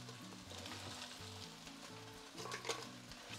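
Steady, close sizzling of chicken frying in a pan, with a few soft stirring scrapes near the end.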